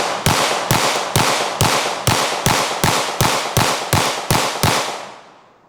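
A magazine of rounds is fired at cheap Amazon body armor: about thirteen loud, sharp gunshots in an even, rapid rhythm, each cracking hard with a short decay, the last ringing out into quiet.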